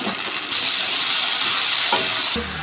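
Okra frying with salt and turmeric in a pan gives a loud, steady sizzling hiss that swells suddenly and holds, broken near the end by a couple of soft stirring clunks.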